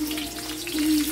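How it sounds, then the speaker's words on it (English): Onions sautéing in oil in a pan while chicken livers with vegetables are cooked, giving a steady, close, soft sizzle that builds slightly toward the end, heard alone. "I like to saute my onions first."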